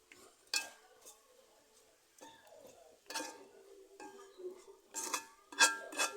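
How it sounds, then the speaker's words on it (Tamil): A spoon stirs greens cooked with grated coconut in a pan, making faint scraping and clinking strokes in short bursts with quiet pauses between them, close but soft. "தேங்காய் பூவும் போட்டாச்சு லேசாக கிண்டி விட்டுக்கலாம்"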